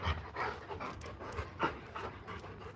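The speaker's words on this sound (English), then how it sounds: "Dogs are here." A dog pants close by in quick, steady breaths, with a rhythmic, slightly wet huffing that carries on throughout with no voices.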